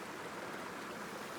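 A stream runs down past rocks, with water coming in from either side and flowing down in a V shape. It is a steady, full rushing wash, close and even, with no voices.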